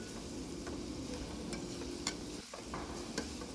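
Onions and capsicum pieces are stirred in a frying pan while prawn noodles are prepared, giving a soft, steady sizzle with a few faint utensil taps and scrapes; the sound is quiet and close.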